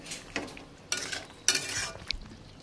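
Meat curry with malabar spinach stirred in a pan, a spoon scraping and pushing through the thick mixture in several short bursts with a faint sizzle between strokes.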